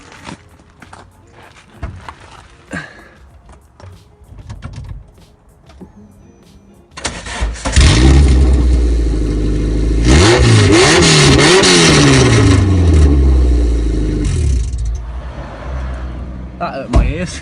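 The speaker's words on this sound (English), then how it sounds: "We're going to run the car just with a downpipe straight into the air." A car fitted with only a downpipe venting straight into the air fires up in a garage after quiet shuffling and clatter, then roars loudly, rising and falling through several hard revs before settling to a raw idle.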